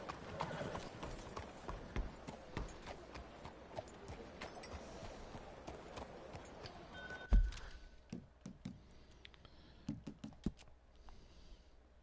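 A horse trots in Red Dead Redemption 2, steady clip-clop hoofbeats at moderate distance, fairly faint, stopping after a thump partway through, then a few scattered clicks and light taps.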